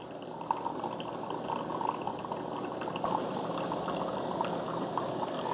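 A Keurig coffee maker dispenses very hot water, about 200 degrees, in a steady close stream with bubbling, dripping and gurgling throughout, alone without voices.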